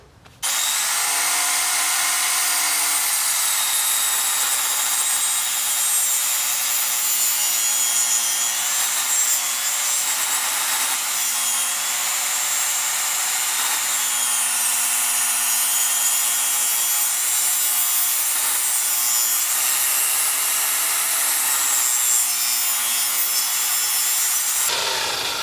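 A power saw blade cuts through wooden patio furniture being refurbished, giving a loud, steady whine and rasp that holds for over twenty seconds, close and continuous, with no talk.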